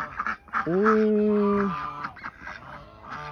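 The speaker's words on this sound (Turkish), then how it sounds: "Hepsi Çin kazı" Chinese geese honk at a farm, one long nasal honk standing out near the start among shorter calls, with a person's brief voice mixed in.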